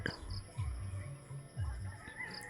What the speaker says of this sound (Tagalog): mayroon pang ibon nag-aawitan na